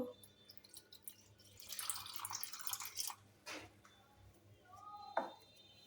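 Water poured into a mixed spice blend for coriander-leaf chops, heard as splashy, trickling pours with a few drips, fairly close and moderately soft, ending in a brief sharper splash.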